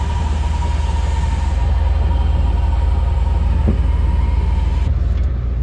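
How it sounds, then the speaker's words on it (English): Junk car engine idling to charge its dead battery, a loud steady low rumble with a constant hum, continuous throughout with no talk. "I'm leaving the vehicle running"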